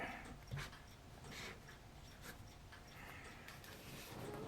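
A pet dog makes soft whimpering and panting sounds nearby in a quiet room, faint and fairly steady over a low background hum, with no talking.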